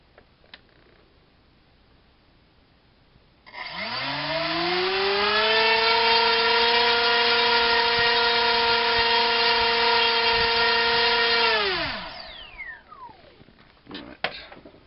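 An RC electric motor powered by a LiPo battery spins up at half throttle into a steady, loud whine rich in harmonics, holds its pitch for about eight seconds, then winds down with a falling tone, alone without talk.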